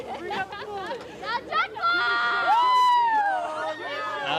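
Lively crowd noise at a freeride ski competition at Kicking Horse, Golden, B.C., with excited shouts, whoops and overlapping voices, building into a loud sustained cheer near the end.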